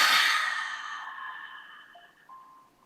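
A strong, breathy exhale during a guided breathing exercise, loud and close at first, then fading steadily over about three seconds with a faint hum near its end.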